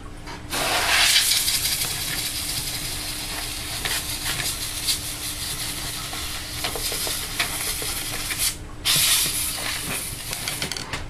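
Compressed air sprayed to blow dust off a PS2 fatboy console laid on a pillowcase, a loud close hiss in long bursts with a brief pause before a final blast.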